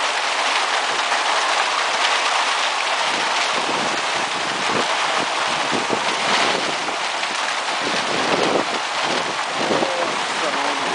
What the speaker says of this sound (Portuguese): Começa a cair pedra, chuva de granizo.